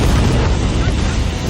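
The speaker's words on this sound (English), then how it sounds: "Until some of the tanks literally blow sky high." A 90,000-gallon chemical storage tank blows apart in a massive, roaring explosion, a dense and overwhelming blast of rumbling noise that fills the whole moment without letting up.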